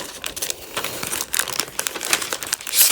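A sheet of origami paper is folded into a peacock, making close, crisp crinkles and rustles in irregular bursts, with short pauses between folds.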